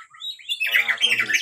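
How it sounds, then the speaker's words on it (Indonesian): An oriental magpie-robin (kacer) sings close by, a quick run of bright, varied chirps and whistles that builds into a steady, lively warble, heard alone without talk. "Ini yang ini baru datang langsung nyanyi nih burungnya ini."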